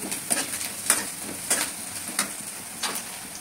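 Green chili, turmeric and spices sizzle and are stirred in a hot pan with peanuts and onion. Soft frying hiss continues throughout, with repeated scraping clinks of a spoon against the pan at an irregular rhythm.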